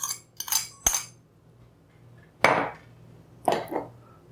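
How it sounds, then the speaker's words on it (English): Ingredients with salt, sugar and salted butter stirred in a kitchen pot: a few sharp, close metallic clinks and scrapes separated by quiet gaps, with no voices. "We would stir these ingredients in the pot, give it a stir"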